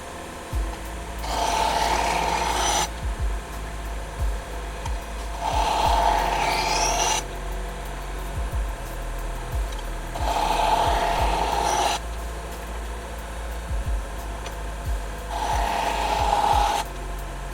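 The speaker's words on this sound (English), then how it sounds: "mostly concerned about trying to grind the tip. That's where my heat's gonna build up the quickest." A knife blade is ground in four separate passes of a few seconds each, a harsh rasping rub separated by pauses, steady and close with no talk.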